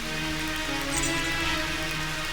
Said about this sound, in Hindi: इंद्र बारिश कर रहा है